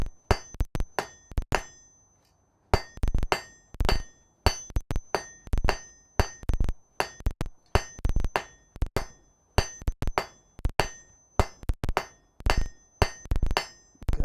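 Hammer forging hot quarter-inch mild steel on an anvil in a smithy, loud ringing metallic blows in quick clustered bursts with bright anvil ring, briefly pausing near the start and then continuing steadily.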